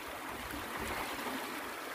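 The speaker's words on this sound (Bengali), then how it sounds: "কিন্তু পানির কি আওয়াজ!" Water flowing through a small canal beneath a bamboo footbridge, a steady faint rushing and trickling wash with no voices.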